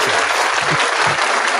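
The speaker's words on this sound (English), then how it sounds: "Let me give McKivitz a round of applause" A studio audience or group claps in steady, dense applause, close and loud throughout a short stretch, during a 49ers postgame discussion show.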